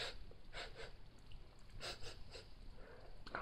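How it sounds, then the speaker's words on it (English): A person sniffs repeatedly at something up close, several short breathy snorts in uneven rhythm, faint and low against a noisy background. "I'll sniff this guy first."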